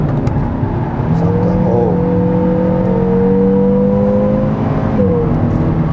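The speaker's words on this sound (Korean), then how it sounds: "엔진 회전수를 올려서 보정을 해주고, 그 다음에 기어를 미트하는" A Kia K3 GT five-door in sport mode blips its engine on a paddle-shift downshift, a loud, smooth rev that climbs and settles in a sustained drone, close and without talk.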